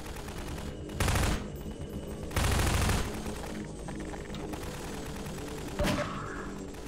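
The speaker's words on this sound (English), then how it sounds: "Who's shooting at me?" Video game gunfire in Half-Life 2 comes in three loud bursts of rapid shots, each about a second long, separated by quieter stretches of background noise.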